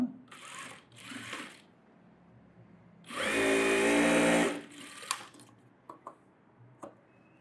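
A sewing machine stitches a net blouse during a tailoring lesson, running in two short bursts, then a longer steady run of about a second and a half, followed by a few faint clicks. The machine sounds close and moderately loud, with no talking.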